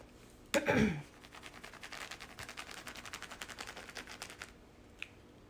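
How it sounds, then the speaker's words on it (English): Rapid scratchy strokes of a marker rubbing back and forth on plastic, a steady rhythmic scribble after a brief crinkly rustle, fairly close and quiet. "So we're just gonna scribble all over your plastic bag like this."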